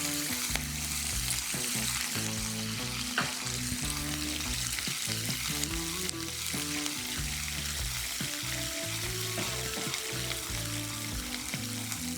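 Garlic pieces and curry leaves fry steadily in a pan of hot oil, a dense continuous sizzle with stirring scrapes, close and loud throughout with no talking.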